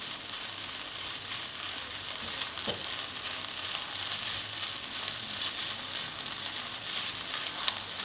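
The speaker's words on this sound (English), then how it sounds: "you can add your oyster sauce to it and stir" Rice stir-fried with oyster sauce over medium-high heat, a steady broadband sizzle with faint scraping of the stirring utensil, one brief tap near the end.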